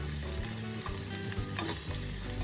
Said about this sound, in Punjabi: ਪਿਆਜ਼ ਆਪਾਂ ਹਲਕਾ ਬਰਾਊਨ ਹੋਣ ਤੱਕ ਜਿਹੜਾ ਭੁੰਨ ਲੈਣਾ ਆ